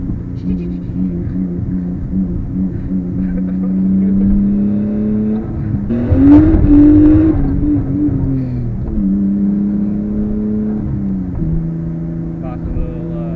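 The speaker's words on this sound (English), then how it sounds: "you can listen to the turbo spool and all that good stuff. Blow off valve." A Nissan Skyline's turbocharged engine drones at steady revs, then rises with a turbo whine around the middle and settles back down. The sound is loud and close, with a constant rumble throughout.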